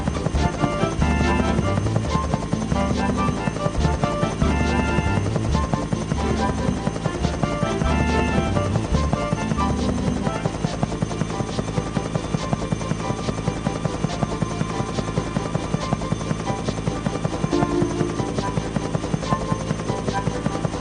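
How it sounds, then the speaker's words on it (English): A biplane engine drones steadily nearby in a Thomas & Friends PC game, a continuous buzzing hum layered with game music and effects for the whole stretch, no talking. "There's a biplane flying near you."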